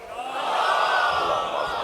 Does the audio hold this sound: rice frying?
no